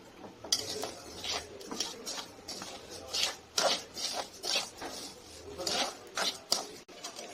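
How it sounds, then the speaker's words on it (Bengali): Mung dal is dry-roasted in a pan and stirred continuously, producing a busy run of rasping scrapes and light metallic clinks at a moderate, close level with no voices. "মুগের ডাল নিয়েছি, এটাকে আমি হালকা ভেজে নিচ্ছি।"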